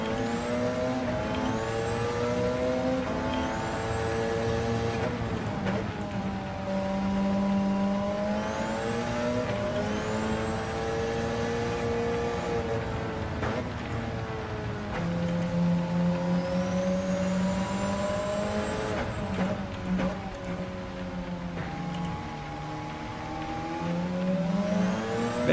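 A race car in a racing video game screams at full throttle, its engine note climbing steadily and dropping back with each gear change in repeated rising sweeps, loud and close throughout, with tire noise underneath.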